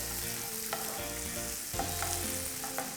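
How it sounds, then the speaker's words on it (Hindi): Carrots, ash gourd, raw papaya and pumpkin frying and being stirred in a pan, a steady close sizzle with occasional scraping stirs and no talk. "इन सबको हमें 1 मिनट के लिए कुक करना है ताकि वेजिटेबल थोड़ी क्रंची हो"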